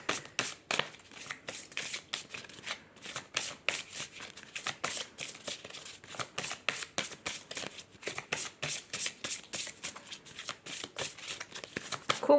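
Oracle cards are shuffled by hand in a long run of quick, crisp riffling bursts, close and fairly soft, repeating in an uneven rhythm with no voice over them.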